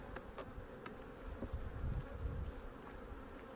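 Honey bees buzz steadily around a hive frame heavy with fresh nectar, a dense, continuous close-up drone with no talk.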